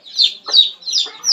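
A farmyard hen clucks in four loud, close calls in an uneven rhythm, with no other sound around them.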